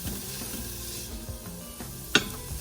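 Onions and celery softening in an Instant Pot, with a close, steady sizzle and bubbling, low stirring rumbles and one sharp metallic clink near the end.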